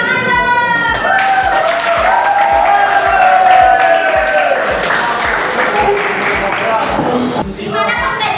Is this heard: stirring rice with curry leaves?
no